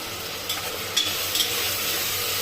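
Red chilli powder and garam masala sautéing in a pan for tomato rice, a steady close hiss of frying with a few faint stirring scrapes, and no one talking.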